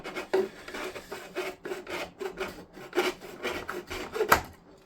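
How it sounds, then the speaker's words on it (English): Rhythmic rasping strokes of a hand saw cutting hard plastic model kit parts for a Tamiya semi truck cab, steady back-and-forth with no talking. "I may as well just saw the bulk of them off"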